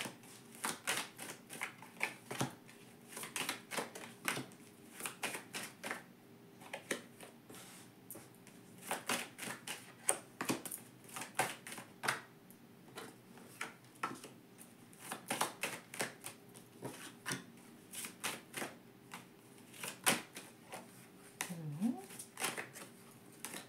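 Tarot cards being shuffled by hand, a steady run of crisp, rapid clicks and riffling snaps close by, repeated in uneven bursts with brief pauses.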